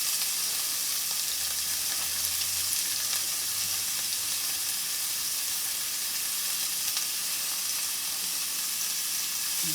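Turkey sausage with onions and green peppers, cooking for jambalaya, sizzles steadily in a hot pan. A dense, even frying hiss continues without a break, and there is no talk.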